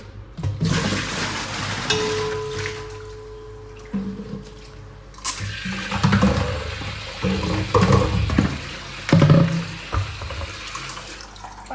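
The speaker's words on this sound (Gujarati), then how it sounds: "પાણી ઢોળવામાં તો માહિર છું" Water poured and splashed out at home, running in uneven gushes and spills with a steady tap-like flow that surges louder toward the middle and end, with clattering handling noises in between.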